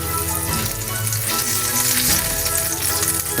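Butter melts in olive oil in a hot pan for steak, giving a steady, dense sizzle and crackle, close and continuous with no talk.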